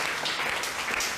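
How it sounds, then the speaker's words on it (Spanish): A church congregation applauds during a Spanish-language Pentecostal-style sermon on spiritual gifts, producing a dense, steady wash of many hands clapping at close range that holds for the whole moment. "Un aplauso al Señor,"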